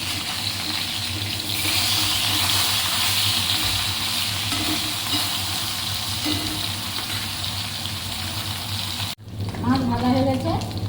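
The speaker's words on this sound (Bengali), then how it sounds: "মাছ ভাজা হয়ে গেছে, নামিয়ে নিচ্ছি" Fish frying in a pan gives a loud, steady hiss of oil that runs unbroken for several seconds, then stops abruptly before a voice begins talking.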